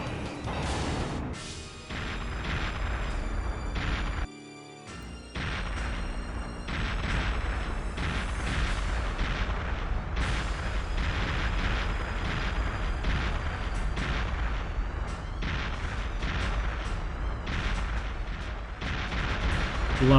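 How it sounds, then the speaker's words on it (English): Explosions in the Perfect Dark video game, in a deep-sea mission. Dense, continuous booming blasts and crashes fill the scene, loud and sustained, with a brief drop near the start before the barrage resumes. "Lots of explosions."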